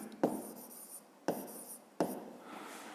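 A pen writes out the answer to a fifth-grade math exercise in three quick, close scratching strokes, each starting with a sharp scrape and then fading, with no talking.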